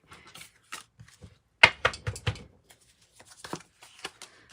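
Tarot and oracle cards are shuffled by hand in irregular bursts of crisp riffling and slapping, with a louder flurry in the middle and softer card sounds before and after, close and clear with no talking.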